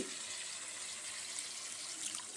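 Water poured into a pan of chicken curry cooking in oil, a steady close hiss and trickle of liquid lasting a couple of seconds at low volume with no talk.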